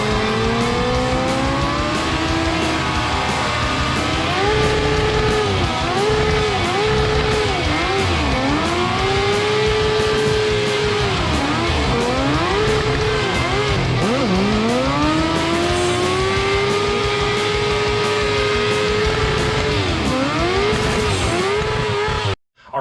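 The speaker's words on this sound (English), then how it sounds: "Our 4x4 cross cart with the 600cc street bike engine." A 4x4 cross kart powered by a 1995 Yamaha YZF 600R 600cc street bike engine runs loudly and continuously for over twenty seconds, its pitch climbing and dropping through repeated revs and gear changes, then cuts off abruptly at the end.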